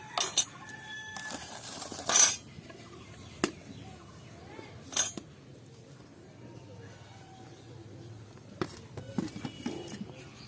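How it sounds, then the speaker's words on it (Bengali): A hot cooking pot of khichuri on a wood-fired stove is handled with a cloth and opened. Sharp metallic clanks and clinks of the pot and lid ring out at irregular moments over a quiet background. "এবার হাঁড়িটা খুলে দেখিয়ে দেবো আপনাদের।"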